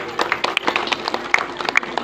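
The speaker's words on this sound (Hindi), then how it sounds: "ताली बजाओ हमारे श्याम" Audience clapping at a village gathering, a dense burst of many hands applauding at close range with sharp individual claps standing out, and a voice talking faintly underneath.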